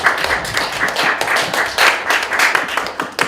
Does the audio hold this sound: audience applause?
yes